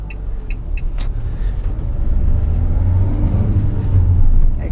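A car engine rumbles from inside the cabin, its low drone building and rising steadily as the vehicle picks up speed.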